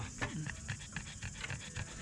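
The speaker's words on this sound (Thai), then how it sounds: "ทำไมมันหอบตลอดเลยวะ" Short-snouted dog panting steadily in quick, rhythmic breaths, fairly close, with a light background hum and no talk.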